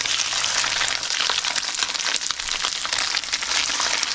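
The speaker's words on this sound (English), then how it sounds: "And that's all we're going to do is lightly grill them. Or pan sear them" Fish fillets sear in a hot pan, giving a steady, loud, close sizzle that crackles evenly throughout with no pauses and no talk.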